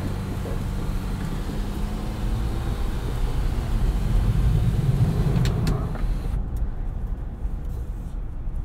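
A 2020 Jeep Wrangler Rubicon EcoDiesel crawls a rough off-road trail, its low diesel rumble steady beneath suspension thumps and rattles, briefly rising in loudness midway before easing.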